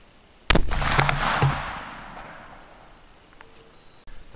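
Rifle shots at a steel target bar: a sharp loud crack followed by a couple of quick reports and a long fading rumble, with a faint thump at the end.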